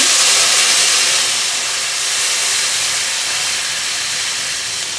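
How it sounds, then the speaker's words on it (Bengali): Loud, steady hiss from water poured onto frying vegetables in a hot pan for a tilapia fish jhol, a dense sizzling rush that fades slightly over several seconds, with no voices. "আমি আমার প্রয়োজন মতো জল দিয়ে দিচ্ছি"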